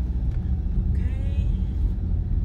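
A car rolls through a residential subdivision in Katy, Texas, its low steady rumble of engine and road noise constant throughout.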